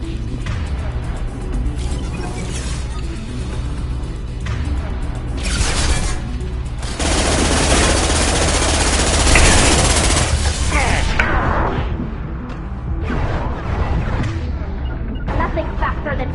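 Dense, continuous gunfire and crashing combat noise from the sci-fi shooter Mass Effect 2 fill the whole stretch, swelling louder in the middle and easing slightly toward the end.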